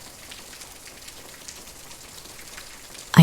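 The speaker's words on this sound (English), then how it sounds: "let's cue the rain sounds" Gentle rain patters in a steady, even hiss at a soft level. A sudden louder thump comes at the very end.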